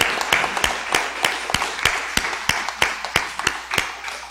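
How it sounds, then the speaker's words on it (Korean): A church congregation gives a child steady, rhythmic group clapping in a regular beat of sharp, evenly spaced claps, close and fairly loud with no talking. "수원서 온 우리 승년이 위해서 박수"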